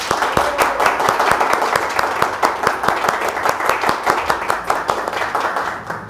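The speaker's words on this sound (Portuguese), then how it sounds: "Eu vou pedir agora o Brasil inteiro uma salva de palmas para o policial" An audience in Brazil gives a round of applause for a police officer, with sharp individual claps standing out in a steady, fairly regular rhythm over several seconds, moderately loud and close.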